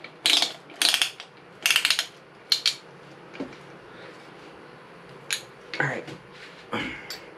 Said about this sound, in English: Now we're gonna use this little tool here to tighten up the piston rings.